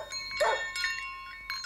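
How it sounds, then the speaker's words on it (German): A dog tied at its doghouse rushes out and barks angrily, one sharp, close bark amid quieter shuffling. "kam Swip aus der Hundehütte herausgestürzt und bellte böse."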